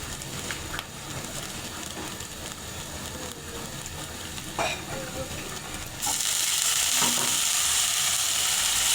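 Ground turmeric, chili, cumin and salt sizzle and fry in a hot pan for a katla fish and bottle gourd curry, a continuous close crackle with occasional stirring scrapes that grows brighter and louder near the end.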